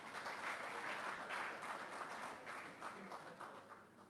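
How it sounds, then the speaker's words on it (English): An audience at a marketing awards ceremony applauds steadily, a dense wash of clapping that stays fairly even before tapering slightly at the end. "So I think you should also give yourselves a big round of applause."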